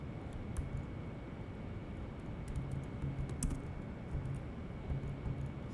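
Keys on a computer keyboard clatter in quick irregular bursts of light clicks over a soft steady hiss. No one speaks.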